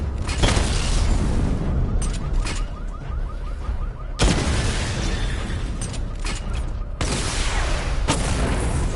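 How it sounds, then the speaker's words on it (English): Missile barrage explosions in Batman: Arkham Knight, a string of heavy booming blasts and rumbling bursts, several sharp impacts spaced a few seconds apart over a dense mechanical roar, loud and close. "Destroy targets to charge up weapon energy and activate missile barrage"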